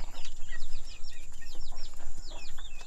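Leghorn chickens cluck and squawk in a busy run of calls near at hand, a red-combed rooster among them, with a steady hum behind.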